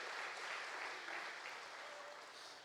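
A church congregation applauds for Jesus during a service, a brief, soft and distant patter of many hands clapping that fades slightly toward the end.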